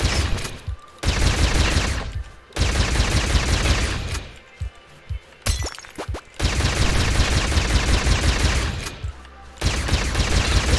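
Rapid automatic gunfire in the space shooter Space Robinson, loud sustained bursts of shots broken by short pauses and a quieter reload gap, close and alone without talk.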